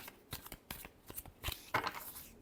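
Tarot cards being shuffled by hand make a series of quick papery riffles and soft slaps in an irregular rhythm, close and fairly quiet, with no talking.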